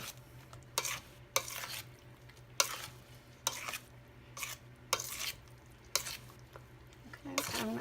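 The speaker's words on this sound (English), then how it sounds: "And we're going to fold all this cheese of goodness in there." Cheddar cheese folded into a Southern squash casserole mixture with a spoon, giving soft repeated scraping strokes against the bowl about once a second over a faint steady hum.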